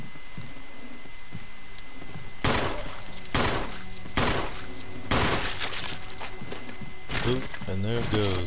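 Several sharp, loud gunshot bursts crack out in a first-person shooter game, spaced about a second apart and followed by a quick rattling volley, over a steady low game background hum.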